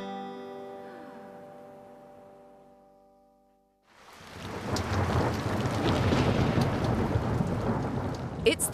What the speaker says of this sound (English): it's raining so hard we can't even see the mountains